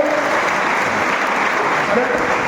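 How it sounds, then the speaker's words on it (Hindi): An audience clapping loudly, a dense, continuous burst of applause from many hands filling the space, steady and close throughout. "ताली जोर से बजा।"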